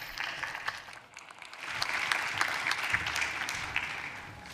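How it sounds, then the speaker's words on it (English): An audience at a smart-city leadership conference claps steadily, a broad, even wash of applause that swells slightly midway and continues throughout. "Please give Ms. Chain a round of applause"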